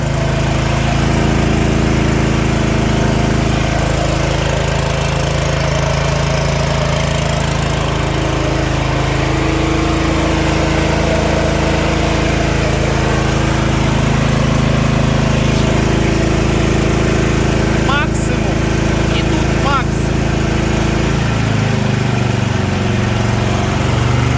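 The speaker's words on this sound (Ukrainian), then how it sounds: "бачите, і він сам переходить генератор в економ режим" A Weima WM6000EI 6 kW inverter generator runs steadily and loudly under load, then its engine note drops near the end as it settles into eco mode; a couple of brief clicks occur just before.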